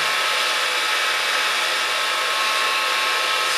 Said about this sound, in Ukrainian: ми цим феном далі проходимося по всій всій площині